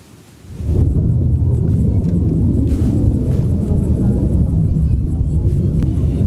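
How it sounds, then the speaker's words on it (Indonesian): An Israeli fighter jet passes over southern Lebanon, its deep, heavy roar swelling abruptly after a quiet moment and then holding loud and rumbling for the rest of the span. "Pesawat jet tempur Israel terus melakukan serangan di permukiman warga di Lebanon Selatan."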